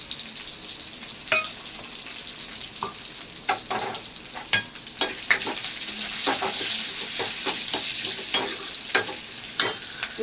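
Mutton frying and being stirred in ghee for biryani, a steady close sizzle broken by frequent scraping clicks of a spoon against the pan, with no voices.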